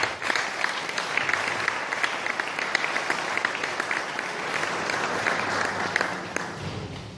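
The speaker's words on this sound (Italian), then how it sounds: "Un applauso." Audience applause at a cultural event in Sardinia, a dense, even clapping from a crowd that carries on steadily for several seconds without speech.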